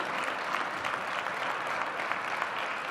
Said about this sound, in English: I want to give them a huge round of applause.